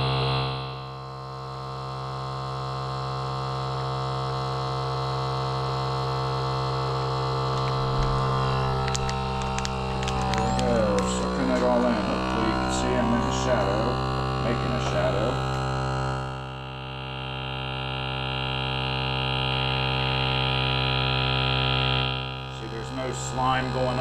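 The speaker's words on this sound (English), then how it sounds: "Pop it down, hit the vacuum and seal button." A vacuum sealer seals a package of skipjack fish, its motor a steady electric hum with a droning whine that rises and falls, pausing briefly before starting up again.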